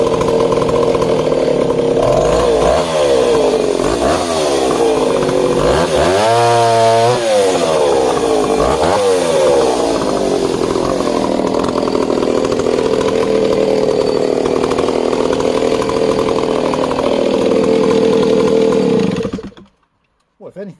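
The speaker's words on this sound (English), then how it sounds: "so ever so interesting cutting with that saw" Vintage West German Stihl S10 chainsaw cutting wood, a loud close continuous engine drone that bogs and swells as the chain bites through the log, running steadily for nearly twenty seconds before shutting off.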